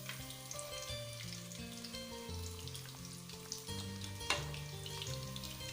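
Fish frying in hot oil gives a steady, close sizzle with soft crackle throughout, broken by a brief clatter of stirring near the end; no voices.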